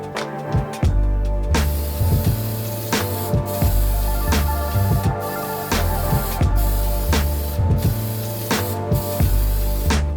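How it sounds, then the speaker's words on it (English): A spray can lays flat clear coat onto car interior parts in a steady, close hiss, broken by short pauses and clicks between passes. "So let's go ahead and clear coat this"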